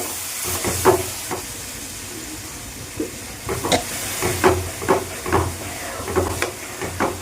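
A yogurt mixture, thinned with water rinsed from its bowl, sizzles and steams in a pan while a spoon stirs it in a run of rhythmic scraping strokes that grow busier toward the end.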